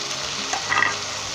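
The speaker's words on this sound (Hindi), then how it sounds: "हमने चिकन को अच्छी तरीके से 5 मिनट जैसे भून" Chicken pieces sizzle and fry in a hot pan for a korma while being stirred, giving a steady close hiss with a faint scrape of the utensil.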